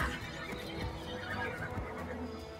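A horse whinnies amid a busy Warframe game soundscape, with hooves clopping and ambient noise underneath.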